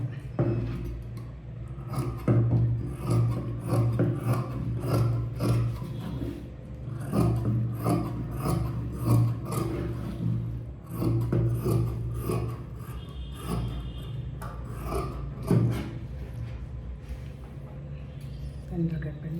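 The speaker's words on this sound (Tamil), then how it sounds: "இப்போ இது கட் பண்ண வேண்டியது." Scissors cutting fabric for a top with a Peter Pan collar, a repeated rasping snip-and-slide sound close up, running in uneven bursts throughout.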